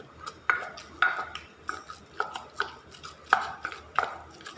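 A pestle pounds fish laab made from carp in a mortar, about nine sharp, fairly evenly spaced thuds with a clacking edge, close and alone.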